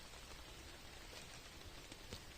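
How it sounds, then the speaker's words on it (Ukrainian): Light rain falling in the Carpathian mountains, a faint, even hiss of fine drops with a few soft distinct patters, distant and steady. "Почав падати дрібний дощик."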